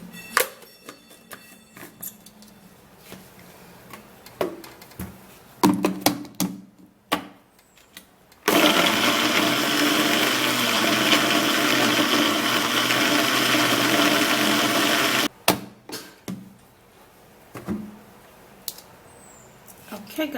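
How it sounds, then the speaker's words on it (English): A small kitchen blender whirs loudly and steadily for several seconds, blending apple with a little water, framed by clicks, clatter and handling noises before and after. "I'm gonna be blending it with the smaller blender here"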